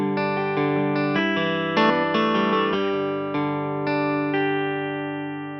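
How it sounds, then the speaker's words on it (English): A Yamaha PSR-S970 arranger keyboard plays its dry Vintage Amp electric guitar voice with no reverb or effects, a short melodic phrase of clean, sustained overdriven notes played alone. "I'll play this sound that's called Vintage Amp, and there's absolutely no reverb and no effect applied to it"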